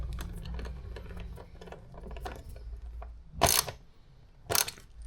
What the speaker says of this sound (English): Now put the bolt in and your washer. 8mm socket tightens it up.